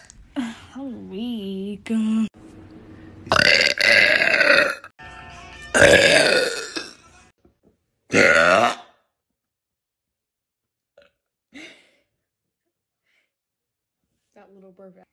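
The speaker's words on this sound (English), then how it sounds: "That little burp." Loud burps come in several separate bursts from a woman, each a croaky voiced belch, with short gaps and near silence between them and a faint hiccup-like sound near the end.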